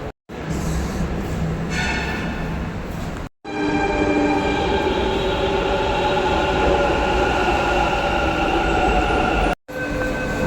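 A metro train at Majestic metro station runs with a loud, steady rumble and rail hum that fills the whole stretch, broken by two abrupt short gaps. No one speaks.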